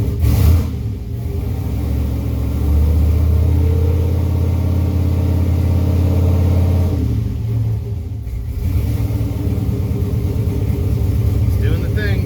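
A car engine that has just started after sitting for six months runs loud and close with a steady, rough rumble and a brief dip midway, while someone talks nearby.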